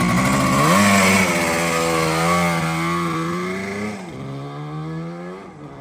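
A 1970 Kawasaki Avenger SS 350 two-stroke motorcycle engine runs close up, loud and buzzy, its pitch rising and falling through revs before easing off near the end.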